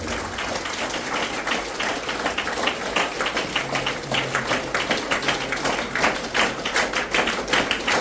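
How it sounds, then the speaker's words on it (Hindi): Sustained applause at a community trainers' conference, as a guest is welcomed on stage with a garland and bouquet, loud and continuous throughout. "जोरदार ताली से इनका स्वागत करें।"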